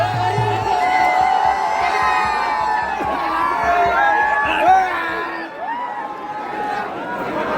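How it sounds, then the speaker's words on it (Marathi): A crowd cheers and whoops loudly after a group wins a traditional village game, with dense shouting and babble sustained throughout and swelling briefly before settling. "जल्लोष बघा."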